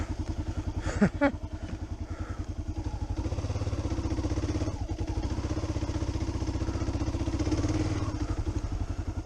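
A 2017 Kawasaki KLR 650 motorcycle riding along a rut, its single-cylinder engine thumping in a steady low putter close to the mic, with a couple of brief knocks near the start and slight swells in engine note.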